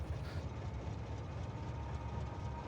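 A train rolls steadily along its track in the game Factorio, producing a continuous low rumbling drone with faint rhythmic clatter, quiet and unbroken throughout with no voices.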